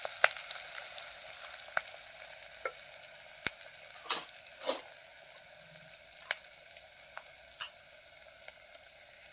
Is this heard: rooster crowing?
no